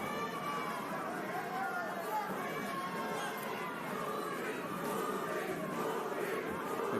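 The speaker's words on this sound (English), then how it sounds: "The crowd getting a chant of Purin going for Caraballo." Boxing arena crowd at a Jonas Sultan vs Carlos Caraballo fight keeps up a steady, distant roar of chanting and chatter, a dense, even wash of voices with no single clear shout.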